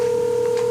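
A telephone keypad sounds a steady, loud dialing tone without break as a number is dialed to call back. It is clean and unaccompanied, with a faint second tone rising briefly near the end.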